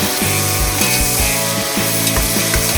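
Onions, coriander, mint and green chilies being sautéed in a pan, a loud continuous sizzle with repeated scraping and stirring clatter close up.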